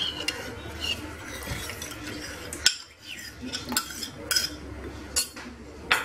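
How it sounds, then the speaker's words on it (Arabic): A spoon stirs hasswa, a Moroccan wheat soup, in a pot with repeated clinks and scrapes against the metal in an irregular rhythm, close and fairly loud. "وغادي نبقى نحرك مزيان حتى كطيب"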